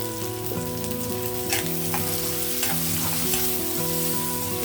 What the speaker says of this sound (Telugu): రెండు ఆనియన్ వేగిపోయాయి కదా